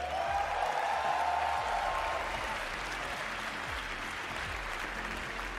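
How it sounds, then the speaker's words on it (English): Arena crowd at a Dota 2 Major applauding Fnatic, a dense sustained wash of clapping with a tonal voice or music line early on, steady throughout. "Another round of applause, please, for Jabs and Fnatic."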